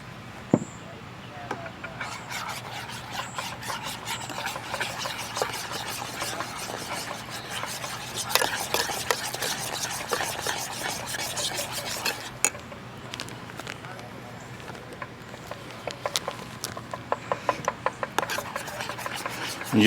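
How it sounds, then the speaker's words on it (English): A spoon stirs powdered sugar and homemade vanilla into a glaze in a bowl. Close, continuous scraping and rubbing comes with clinks of utensil against the dish, ending in a run of sharp taps. "I'm just going to stir this up and turn it into a glaze."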